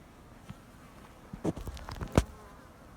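Bees in an opened wooden hive on a forest apiary in early March give a low, faint buzzing with a few brief louder bursts and soft knocks midway through.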